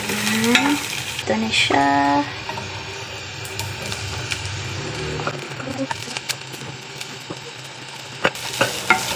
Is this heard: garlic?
yes